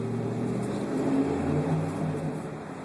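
A car engine ahead idles and hums faintly, heard from inside a 2012 Dodge Charger with the window down, a low steady rumble with slight swells and no talk.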